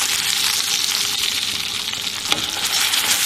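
Steak sizzling steadily in a hot pan while being basted with rosemary, a dense continuous crackle and hiss throughout, with a brief scrape of the spoon near the end.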